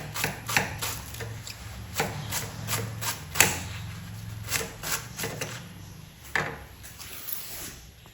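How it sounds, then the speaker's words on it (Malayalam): A knife chops through folded leaves on a board: close, fairly rhythmic taps, about a dozen sharp strikes spaced under a second apart, with a steady low background hum and no talking. "അങ്ങനെ അരിഞ്ഞ എളുപ്പത്തിൽ നമുക്ക് അരിയാൻ പറ്റും"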